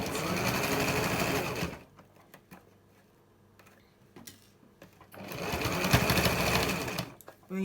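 An electric sewing machine stitches a Buba blouse in two loud, steady whirring runs, separated by a quieter pause with light clicks and a brief spoken word.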